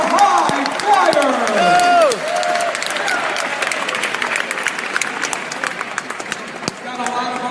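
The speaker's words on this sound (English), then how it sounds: "How about a round of applause?" A State Fair show audience applauds and cheers under an announcer's excited voice and a whooping crowd, steady clapping continuing throughout.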